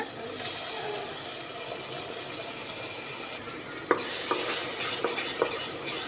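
A ground paste of ginger, garlic, shallots and green chilli sautés in oil for a Dindigul Thalappakatti seeraga samba mutton biryani, a soft steady sizzle broken by stirring scrapes and a few sharp utensil clinks.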